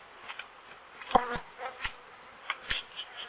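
Honeybees, made aggressive by food shortage, buzz around in wind, passing close one at a time in short bursts, with a faint steady hum of more insects in the background.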